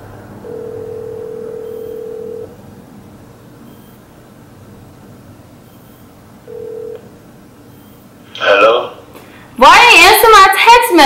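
A phone call rings out with a steady tone pulse lasting about two seconds, then a short second tone after a gap, followed by people talking nearby.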